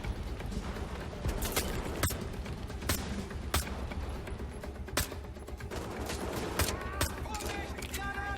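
Gunfire in the Wolfenstein: The Old Blood video game crackles in bursts of sharp shots over a steady dense layer of game noise and music, heard up close.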